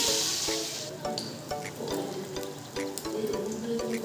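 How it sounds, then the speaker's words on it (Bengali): Fish pieces frying in oil in a home kitchen pan alongside tomato and onion, a soft continuous sizzle punctuated by scattered clinks and pops. "মাছ ভাজা হচ্ছে, দেখো এই যে"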